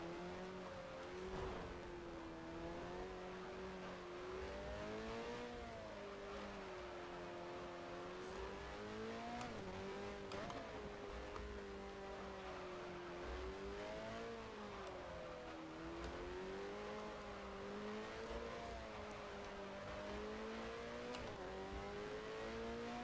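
A 1972 Formula One car in the racing game F1 Challenge, running a lap at the French race with a broken front wing, its high engine note rising and falling steadily through gear changes and corners, loud and continuous.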